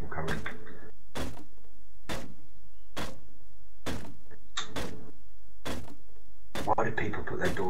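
Doors opening and closing in the video game Rust, a rapid series of sharp, evenly spaced clunks and slams, with voices talking near the start and the end.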